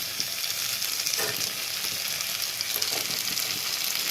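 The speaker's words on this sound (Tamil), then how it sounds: "இப்போ கழுவி வச்சுக்க கருவாடை போட்டுடலாம்" Steady close sizzle of dried fish (karuvadu) frying with sautéed tomato in a pan for karuvadu thokku, a continuous crackling hiss with faint stirring scrapes and no talk.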